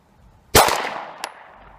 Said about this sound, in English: It did fire with the magazine out.